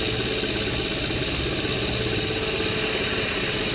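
Loud, steady whirring drone of a spinning rotary sanding pad, 120 grit, close up and continuous with a faint rumbling vibration underneath, no voices.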